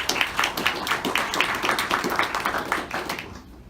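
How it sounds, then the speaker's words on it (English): Round of applause from a conference audience at a digital transformation event, a steady patter of many hands clapping close by that fades away at the end. "please join me in giving them a round of applause"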